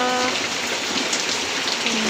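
Steady rain falls on a home kitchen roof, a dense, constant patter of drops throughout with no voices.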